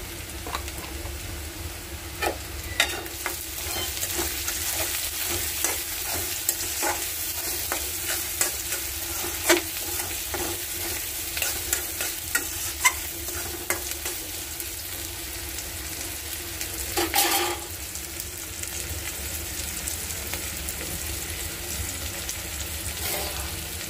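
Salted greens (saag) stir-fry in a hot pan with a constant, busy sizzle. Repeated scraping and tapping from the stirring utensil run through it, with a brief louder hiss near the end and no talking.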